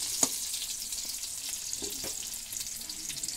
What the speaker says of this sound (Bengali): পেঁয়াজগুলো দেওয়ার পর পেঁয়াজগুলো একটু ভাজা, তারপরে মশলাটা দিয়ে নেব।